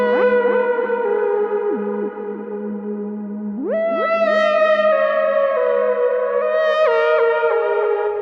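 A spooky retro synth lead for a game-style soundtrack plays sustained, gliding notes with rich harmonics, drenched in distortion, echo and chorus, with pitch slides around the midpoint and near the end, steady and loud throughout.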